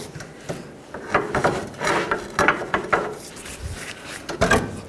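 Pry bar levering a car's front steering knuckle away from the ball joint on a 2010-16 Buick LaCrosse, giving a series of close scraping, rubbing knocks and clunks in irregular bursts, with no talk.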